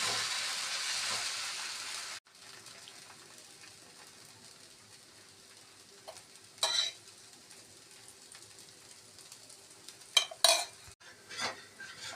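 Adai dosa batter on a hot tawa, a bright hissing sizzle at first, then quieter cooking with a few sharp scraping and metallic utensil clinks later on.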